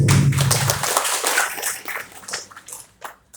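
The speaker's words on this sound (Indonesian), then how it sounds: "Sekali lagi kita berikan aplaus." Audience applause at a village head candidate's vision and mission presentation, a crowd clapping loudly in a dense rush that thins out and fades over three seconds, with a brief low voice at the start.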